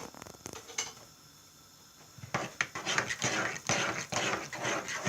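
Pizza dough ingredients with a drop of oil being stirred and mixed in a bowl: a quiet start, then steady, close scraping and clinking strokes of a utensil against the bowl.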